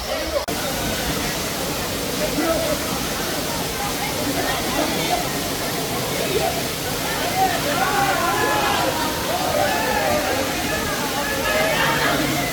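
Apsarakonda waterfall near Honnavar, in rainforest with low water flow, gives a steady close roar and splash that runs throughout, with people talking over it.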